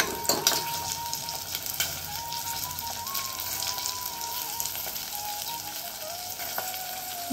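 Onion masala sizzles and fries steadily in a pan while being cooked for a toor bean pod rice dish, a continuous close crackle with small pops and no talk.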